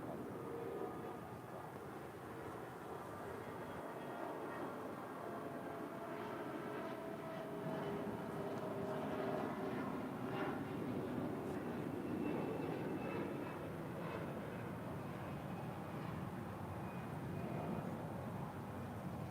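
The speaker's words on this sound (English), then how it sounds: "that is JetBlue Airways flight 2123 in this A321" A JetBlue Airways Airbus A321 arriving at LAX from JFK, heard as a faint, distant and steady jet rumble with a thin whine that swells slightly midway.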